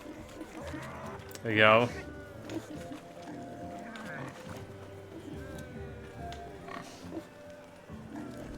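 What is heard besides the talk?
pigs grunting in The Witcher 3 (video game)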